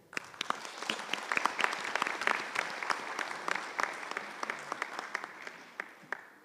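An audience at a Mexican indigenous-language plan launch applauds, a moderate spread of individual claps at some distance that builds and then gradually thins out.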